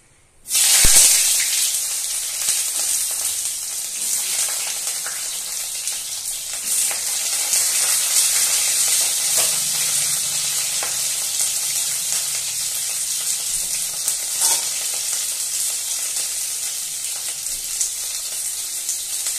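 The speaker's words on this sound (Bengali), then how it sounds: "এবার এর মধ্যে আমি প্রথমেই উচ্ছেটা ভেজে তুলে নেব।" Bitter gourd frying in mustard oil in a wok, a steady bright sizzle that starts abruptly and holds at close range for the whole stretch, with no talking.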